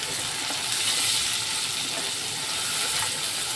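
Spices, ginger and green chili paste with chili powder, cumin powder and salt sizzle and fry steadily in a pan for vegetarian paneer tehari, a dense continuous crackling hiss with faint stirring, close and even throughout.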